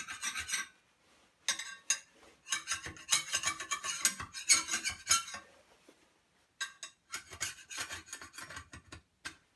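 A steel chisel scrapes burrs off the countersunk holes of a snow shovel's wear strip in a series of close, rasping strokes, broken by short pauses and a few light clicks.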